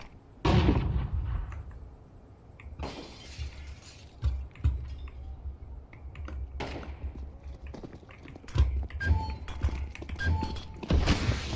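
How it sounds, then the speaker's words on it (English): Valorant flashbang going off in-game, heard as a series of sharp, shattering bursts and bangs spread over several seconds, loud and close against a busy layer of game effects, with no talking. "flashbang."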